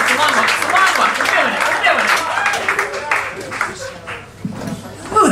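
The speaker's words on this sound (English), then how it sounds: "please put your hands together for Luz Michelle" A comedy club crowd applauds and cheers for stand-up comedian Luz Michelle as she walks on, a steady loud wash of clapping that fades slightly near the end, with voices calling out through it.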